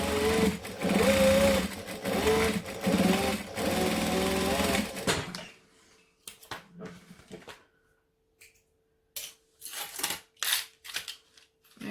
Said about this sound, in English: then I'll go and top stitch everything down flat